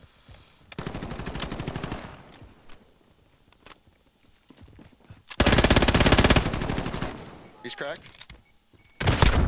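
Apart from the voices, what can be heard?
gunfire in video game Call of Duty Modern Warfare 2019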